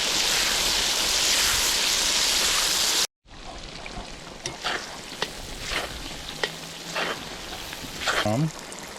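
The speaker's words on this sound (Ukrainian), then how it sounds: "Смажуємо цибульку." Onions sizzle and crackle steadily in a hot cauldron with lamb, then after a brief cut the frying continues more quietly with clinks and a short voice at the end.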